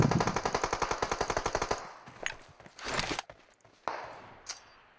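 Automatic gunfire in PUBG Mobile on the Livik map, a rapid close burst of about a dozen shots followed by scattered single shots and impacts with quieter gaps between them.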